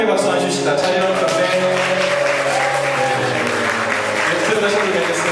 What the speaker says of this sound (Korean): 다시 한번 인사하실 때 환영의 박수 해주시다.